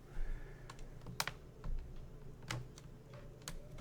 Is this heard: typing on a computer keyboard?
yes